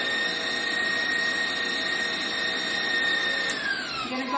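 Electric mixer blending cream cheese frosting in a bowl, a loud continuous motor whine with steady tones that shift slightly in pitch near the end.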